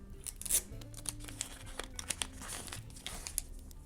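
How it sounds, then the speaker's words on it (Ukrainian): A crinkly paper surprise packet is handled and torn open up close, with irregular rustling and crackling and a few sharper rips. "І відкриваємо ми з вами ось такий пакетик"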